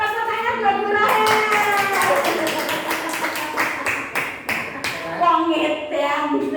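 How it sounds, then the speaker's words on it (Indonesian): A church congregation at a Sunday worship service claps in a quick run of sharp, fairly loud hand claps, with voices and chatter mixed in around them. "Tepuk tangan buat Burahe."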